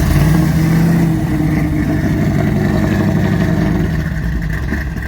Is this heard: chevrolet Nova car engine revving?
yes